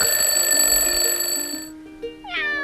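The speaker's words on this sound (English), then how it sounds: "We wake up on alarm clock." An alarm clock rings with a steady, loud electronic tone for about two seconds, then cuts off, followed by a brief rising meow-like sound at the end.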